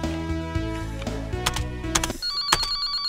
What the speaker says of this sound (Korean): 어 뭐야 이런 갑자기 전화로군.